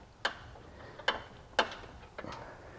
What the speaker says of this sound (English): I have a ratcheting wrench